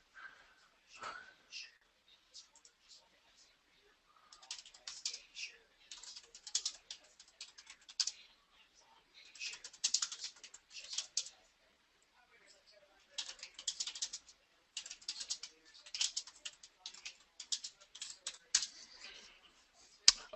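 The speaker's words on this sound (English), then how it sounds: "I just was typing to somebody" Computer keyboard typing comes in quick irregular bursts of light key clicks, broken by short pauses, close and fairly quiet, with no talking over it.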